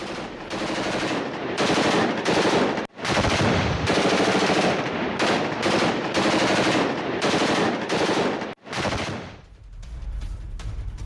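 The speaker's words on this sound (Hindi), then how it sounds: "पहली बार ऐसी तस्वीर सामने आई है नॉर्थ सीरिया में भीषण फायरिंग की, आमने सामने की जंग की।" Heavy combat gunfire in northern Syria, loud sustained machine-gun bursts in long rapid strings separated by brief gaps, close and dominant, no voices.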